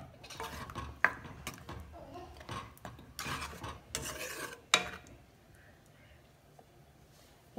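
A utensil stirs thick, creamy paneer butter masala gravy in a pan, giving several scraping and clattering strokes with brief pauses between them, then quietening toward the end.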